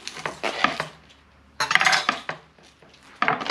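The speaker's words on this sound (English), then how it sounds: "And just chop it up to small pieces." A knife chops cabbage into small pieces on a board in a kitchen, with two bursts of rapid cutting strokes separated by a short pause. Close and fairly quiet, with no speech.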